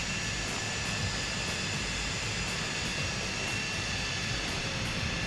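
A big airplane passes by at a distance, its broad steady roar holding level and continuous without any voices over it.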